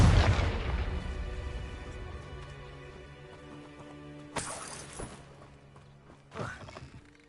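Confringo blasting spell detonating in Hogwarts Legacy: a heavy, close explosive boom opens, fading into a rumbling tail, then two shorter blasts burst out a few seconds apart.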